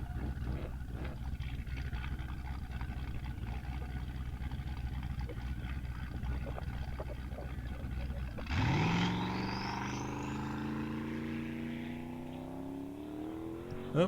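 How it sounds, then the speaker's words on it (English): A 2018 Chevrolet Camaro launches on a drag strip, its engine roaring up through rising revs after several seconds of rumbling background noise, with voices heard before the run. "John Bader next up in his 18 Chevrolet Camaro."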